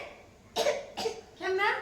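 A young girl coughs three times in quick succession, short close bursts with brief pauses between them, the last one longer and more voiced.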